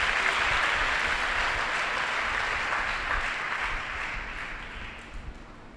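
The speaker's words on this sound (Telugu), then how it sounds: "కొట్టు చప్పట్లు ఒకసారి." Audience applause at a Christian youth gathering led by a preacher; a loud, dense wash of many hands clapping together, steady for several seconds before gradually thinning and fading.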